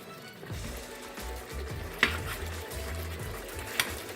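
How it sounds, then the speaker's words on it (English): Jamaican oxtail being stirred in a pot, a steady scraping and shuffling with soft sizzling underneath and a couple of sharp utensil knocks against the pot, close and moderately loud with no talking. "stirring in the pot to get the juices going"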